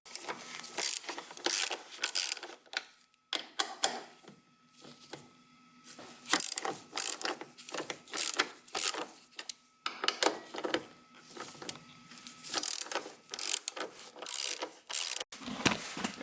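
A ratchet clicks in repeated bursts while strut bolts and nuts are removed during a coilover install, close and crisp, with brief pauses between runs of rapid pawl clicks and no talking.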